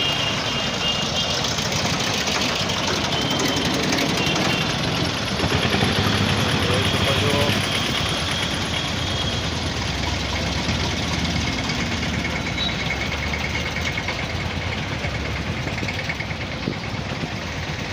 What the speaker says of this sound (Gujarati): અહીંયા અંદર ટ્રેક્ટર ભર્યા છે